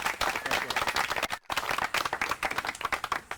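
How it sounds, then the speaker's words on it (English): A crowd claps steadily in dense, sustained applause, broken by a brief silent gap before the clapping resumes at the same level. "give James and Ed a big round of applause"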